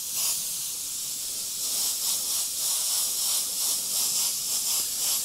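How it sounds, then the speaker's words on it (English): A steady airy hiss of an airbrush spraying paint pulses in short bursts, a fine pressurized mist with no talking. "Let's go ahead and spray that in around the rose."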